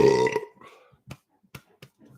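A man lets out one loud, drawn-out burp after a carbonated drink, followed by a few faint clicks and small mouth sounds in a quiet room.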